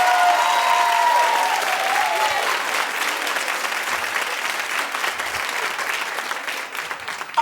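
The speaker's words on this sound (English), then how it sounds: "So clap if you think they were kissing." A television talk show studio audience breaks into sustained, full applause, loud and dense at first, then gradually thinning over several seconds with a few voices audible beneath it.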